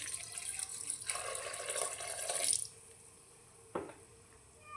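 Water pours steadily into a pot of dal and tomato with turmeric and chili powder for a couple of seconds, then stops, followed by a single light clink and quiet.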